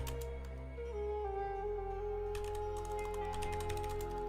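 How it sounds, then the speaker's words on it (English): Keys clattering on a computer keyboard in quick irregular bursts, faint and close, over a steady background hum. "you guys are just gonna hear me type in my keyboard"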